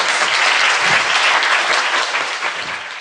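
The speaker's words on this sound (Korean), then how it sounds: "박수 부탁드립니다." A studio audience gives a round of applause, dense and continuous, loud at first and easing off slightly toward the end, with no speech over it.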